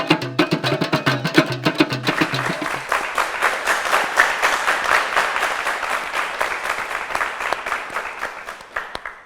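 Sustained applause from an audience at a French employment-themed broadcast, dense clapping rising after a brief musical passage and continuing steadily throughout without talk.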